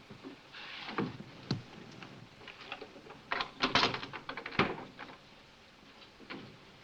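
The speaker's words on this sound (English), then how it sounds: "He double locked the door." A door is double locked in a quiet room: a few faint, scattered clicks and rattles of the lock and handle, with a brief cluster of sharper knocks near the end.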